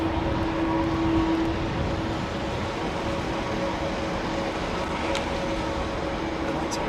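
Boeing Dreamliner aircraft at London Heathrow Airport, a steady broadband jet roar with a faint tonal whine, holding fairly constant throughout, with no speech.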